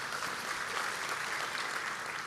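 Applause from a church congregation during a sermon, a soft, even wash of many hands clapping with no voice over it, heard from some distance.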